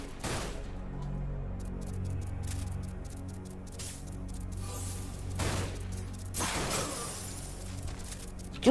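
Gunshots in the video game Dirge of Cerberus: Final Fantasy VII, a handful of sharp, separate shots spaced through the clip over a low steady game background.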